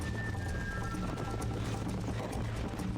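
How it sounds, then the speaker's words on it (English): A horse galloping in Red Dead Redemption, a steady mix of rapid hoofbeats over a constant rumbling game background, moderately loud with no one speaking. "as a way to control your horse, to make your horse go faster and gallop"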